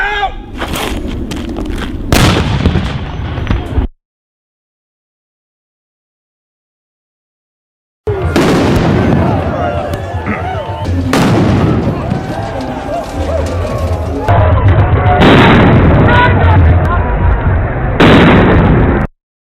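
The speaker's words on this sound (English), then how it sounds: "Somebody from the Antifa side just threw an M80 into the crowd." M80 firecrackers thrown into a crowd at a Berkeley street protest go off in loud, close blasts. Several sharp bangs stand out over crowd noise and shouting, and there is a stretch of silence in between.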